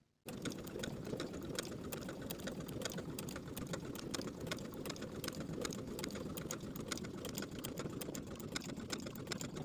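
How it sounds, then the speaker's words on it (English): Sewing machine running steadily while top stitching linen shirt shoulder seams, a fast even mechanical whir with rapid needle ticking, close and uninterrupted after a quick start. "Now we can top stitch with a 1/16 seam allowance just as we did previously, top stitching the shoulder seams on the yoke side of the garment."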